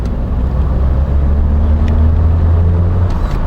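A 1993 Opel Vectra drives under hard acceleration in second gear, its steady low engine rumble loud and close for the whole stretch, with no talk over it.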